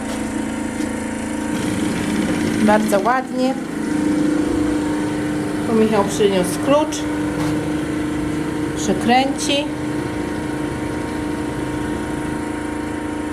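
An Ursus tractor engine idles steadily and close throughout, a low continuous drone with people talking over it.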